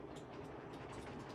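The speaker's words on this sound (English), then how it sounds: "Original winter train putting along there." A LEGO Winter Village toy train runs along its track with a soft, steady mechanical rumble and faint rhythmic clicking, heard close and quiet with no talk.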